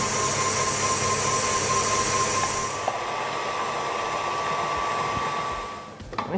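An electric mixer whips eggless macaron meringue at medium speed, giving a steady, loud motor whine with a faint high tone that holds, then winds down and rattles near the end.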